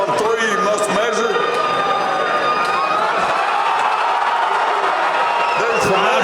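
Arena crowd at a power slap event roaring and cheering steadily throughout, loud and continuous, with an announcer talking over it.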